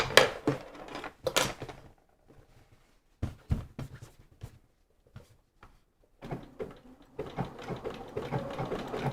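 An overlock sewing machine stitches fabric edges in short, close bursts of fast whirring and clatter, separated by brief quiet pauses.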